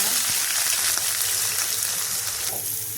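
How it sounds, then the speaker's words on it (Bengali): Chopped onions frying in hot mustard oil in a wok with bay leaf and whole spices, a dense, loud, continuous sizzle with crackling pops throughout and no talking. "দিয়ে দিচ্ছি কেটে রাখা পেঁয়াজ"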